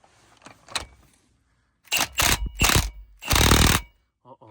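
Wrench working a big tight nut loose on a Steiger tractor: a few short metallic ratcheting bursts, then a longer grinding ratchet run, loud and close in a quiet shop.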